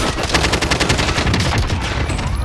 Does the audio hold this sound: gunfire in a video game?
yes